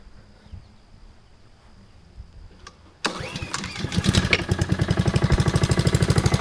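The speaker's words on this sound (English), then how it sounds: "Look at that, it starts up right on the first pull" A Honda commercial lawn mower engine cold starts on the first pull after a quiet stretch, catching abruptly and settling into a loud, steady, close chugging run.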